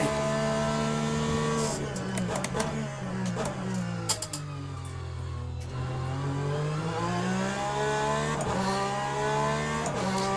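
A GTE race car engine in Le Mans Ultimate drones loud and close as the throttle is feathered, the pitch dipping and rising again with brief tire and gear noises over it, with no voices.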